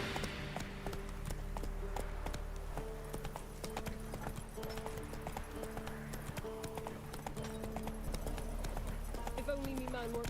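Roach, the horse from The Witcher 3, gallops with quick rhythmic hoofbeats clopping over the ground, steady and close, with speech-like voices and game sounds in the background.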